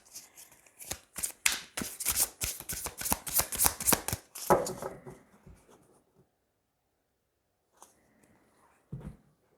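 A deck of tarot cards shuffled and cut, a rapid run of close, crisp riffling snaps that then stops, followed by near silence and a couple of soft taps.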